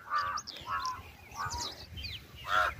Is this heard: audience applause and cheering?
no